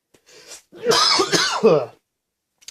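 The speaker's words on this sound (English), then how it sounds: "It's making me cough." A person coughs and clears their throat in a short burst, close and fairly loud, followed by silence.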